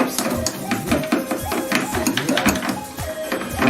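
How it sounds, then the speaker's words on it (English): Toothbrush scrubbing soap scum inside the detergent compartment of a Samsung washing machine: quick, repeated close scratchy strokes in a steady rhythm, with some background noise. "just scrub all these soap scum"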